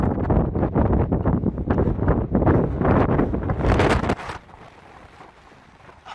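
Strong wind roars and buffets the microphone near a mountain summit at Damsel Peak in Calico Basin, Nevada. It holds loud and gusty for about four seconds, then drops to a softer, steady rush.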